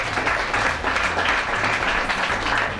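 Steady applause from a crowd, a dense wash of clapping that holds at even loudness throughout with no voices over it.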